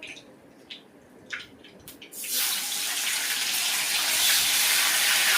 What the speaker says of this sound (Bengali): ভাতটা ফুটে উঠেছে ওদিকে।